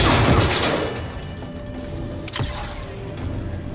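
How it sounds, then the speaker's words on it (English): In the Star Marine video game, a gun fires through a barrier: a dense burst of shots opens the clip, then a single sharp crack rings out later over quieter background rumble. "I'm gonna stick my gun ever so slightly out so I can shoot through the barrier"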